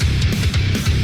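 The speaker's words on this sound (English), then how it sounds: "the music of Doom sounds like this." A short burst of heavy metal soundtrack music from the Doom video game plays loudly, with dense, chugging low guitar riffs on a pounding rhythm.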